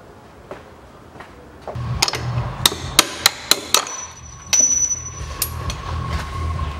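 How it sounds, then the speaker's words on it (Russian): Sharp hammer blows knocking out the upper bolt of a rear trailing arm on a 2005 Chevrolet Niva 4x4, a quick series of loud metallic strikes in a garage, some spaced and some in a rapid burst, with ringing metal. "Сейчас верхний болт выбью."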